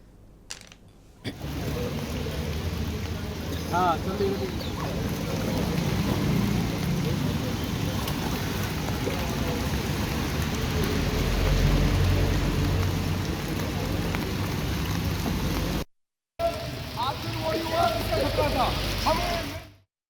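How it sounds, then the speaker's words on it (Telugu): Heavy monsoon rain in Delhi pours in a dense, constant hiss with scattered spatters, interrupted by two brief cuts; faint background noise mixes in. "ఢిల్లీలో భారీ వర్షాలు కురుస్తున్నాయి."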